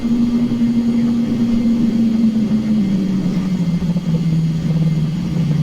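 Flaps extend on an Avro RJ100 airliner in the X-Plane 11 flight simulator, a loud steady mechanical hum whose pitch slowly falls over several seconds beneath constant engine drone.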